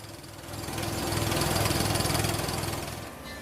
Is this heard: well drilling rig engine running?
yes